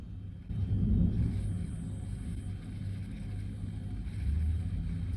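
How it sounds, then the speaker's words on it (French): A low, deep rumble of thunder with no rain rolls on steadily and swells near the end, a distant heavy roar with no voices. "il pleut même pas en fait, il est juste du tonnerre"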